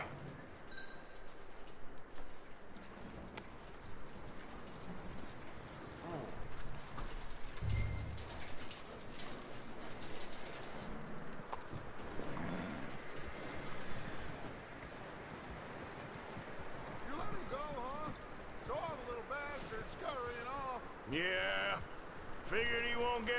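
Horse hooves clip-clop at a steady pace in the western video game Red Dead Redemption, faint and mixed with game ambience and mechanical clatter while someone talks over it.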